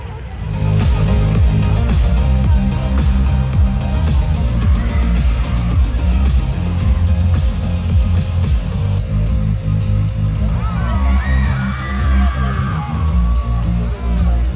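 An audience at a cosplay contest cheers, whoops and applauds for a contestant. The crowd noise is loud and steady throughout, with yells rising over it and music running underneath.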